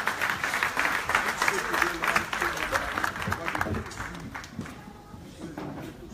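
Audience applause at a church convention in Lyon: dense sustained clapping from a crowd filling the room, strong at first and then thinning and fading toward the end, with voices mixed into it.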